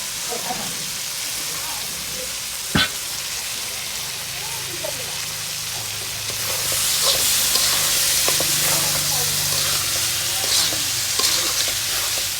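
Farm chicken sizzles steadily in a hot pan for khichuri, growing louder partway through, with a sharp clank of a utensil and scraping stirring sounds.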